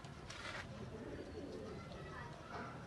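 Kasuri pigeons coo softly in a loft, low murmuring calls faint beneath steady background noise and someone talking nearby.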